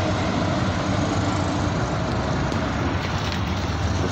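A Mercedes-Benz grain truck rumbles past, a loud, dense and steady roar of engine and road noise that fills the whole stretch.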